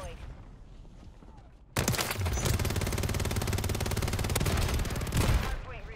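Submachine-gun fire in Modern Warfare on the Das Haus map, a sustained rapid burst of close, loud automatic shots lasting several seconds after a quieter lead-in with voices.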